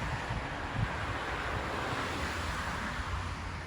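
Sea waves washing against the shore at Buøy in Norway, a steady surging wash mixed with wind buffeting the microphone, continuous and fairly close with no talk.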